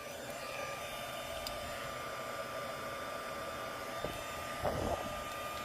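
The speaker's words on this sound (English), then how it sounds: "I'm going to turn on my heat tool for a second here." An embossing heat tool runs with a steady, loud whooshing blower hiss throughout, used while making a Christmas card with embossing powder, with a couple of faint clicks and a brief knock near the end.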